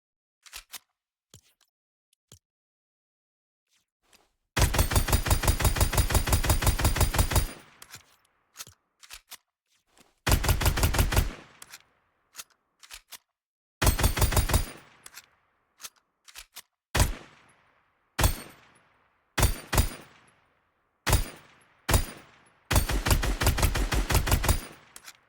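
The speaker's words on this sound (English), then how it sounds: "Next up we have an unused mythic version of the Morphite assault rifle." Gunfire from an unused mythic Morphite assault rifle in Fortnite: several loud sustained automatic bursts separated by gaps, mixed with shorter clusters of rapid single shots, with no voices.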